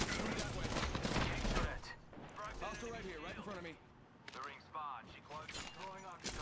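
Rapid video game gunfire, dense fusillade bursts under continuous overlapping voices of players talking, loud and busy throughout.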